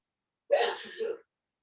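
A single short, fairly close sneeze bursts out in a quiet room during a quilting video call.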